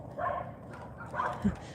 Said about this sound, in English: She hears all the other puppies in the neighborhood.